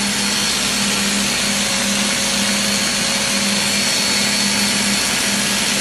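An electric hair clipper buzzes steadily and loudly through a flat-top haircut, a constant motor drone with no pauses.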